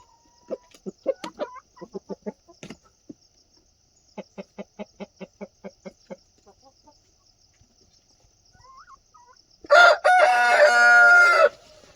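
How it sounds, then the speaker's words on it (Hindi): A farm coop holding some 25 to 30 hens, with repeated rhythmic clucking in short series, then a loud, close rooster crow near the end. "ये इधर जो है हमारा मुर्गी का बाड़ा है, जिसमें कम से कम 25 से 30 हमने मुर्गियाँ रखी हुई हैं।"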